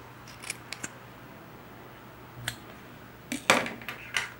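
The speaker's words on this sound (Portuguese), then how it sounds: "Vou tirar aqui um pedacinho dos dentinhos do zíper." Scissors snip off zipper teeth while a handmade bag is sewn, giving a series of sharp, close metallic clicks and crunches in irregular bursts, separated by quiet pauses.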